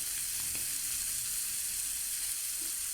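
Anchovies frying in oil in a pan, a soft steady sizzle with faint crackles, fairly quiet and uninterrupted, no voices.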